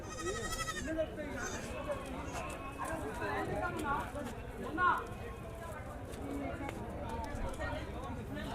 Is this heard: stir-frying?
no